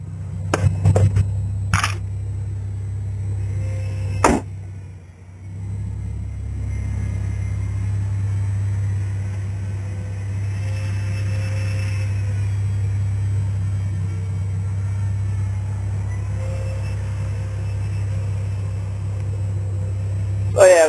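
A car idles steadily in a workshop with a low, constant engine rumble, a few sharp clicks and knocks near the start, and no talk over it.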